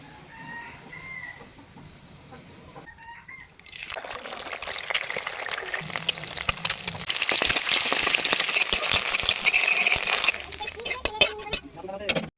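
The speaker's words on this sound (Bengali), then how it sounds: "এবার সাদা তেল দিয়ে ডিমটা ভেজে নেব।" An egg fries in white oil in a kitchen pan with a loud, steady sizzling hiss that starts abruptly and fades near the end. A voice speaks and a rooster crows faintly before the frying begins.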